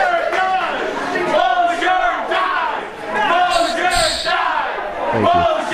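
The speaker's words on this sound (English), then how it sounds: "The crowd chanting for Steve Mosher to dive next." Crowd at a wrestling event chanting in rhythmic, repeated bursts, loud and fairly close, filling the whole stretch with massed voices.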